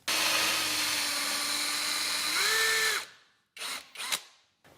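A power drill fitted with a 1.125-inch Forstner bit counterbores a hole in wood for an outdoor table, a steady whining grind that rises in pitch near the end, stops, then gives two short bursts.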